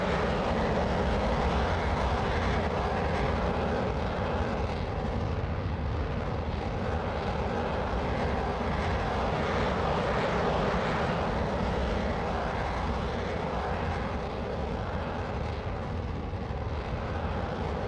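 Panavia Tornado jet at full power in Microsoft Flight Simulator 2024, a loud steady broadband engine roar that holds unbroken for the whole stretch with no talk over it.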